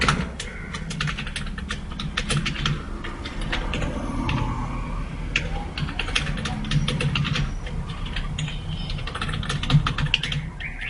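Rapid, steady keystrokes on a computer keyboard as a password is entered during a YouTube account sign-up, clicking continuously and close up throughout with little pause.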